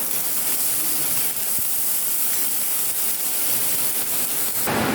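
Chopped onions sizzling in hot oil for a beetroot and carrot stir-fry, a steady loud hiss and crackle running throughout with faint stirring scrapes.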